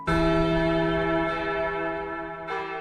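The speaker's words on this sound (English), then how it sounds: "When the church bell tolled, marking another hour in the newborn Christmas morning, Raven and I had long gone." A church bell tolls loudly, its deep ringing tone sustaining and slowly decaying, with a second strike near the end.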